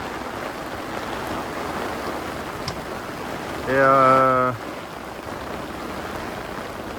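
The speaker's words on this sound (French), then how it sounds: "Ouais, là-bas il pleut fort." Heavy rain falls steadily with wind outdoors, a continuous even hiss throughout, briefly overlaid by a voice in the middle.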